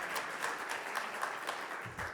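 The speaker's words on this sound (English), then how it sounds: "Round of applause." Audience clapping at a plenary breakfast meeting, a steady, moderately distant round of applause lasting a couple of seconds without voices over it.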